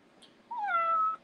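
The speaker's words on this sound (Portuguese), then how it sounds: "Deixa eu segurar meu gato aqui um segundo." A house cat gives a single drawn-out meow, close and fairly clear, rising then holding steady for about half a second, with a brief faint chirp just before it.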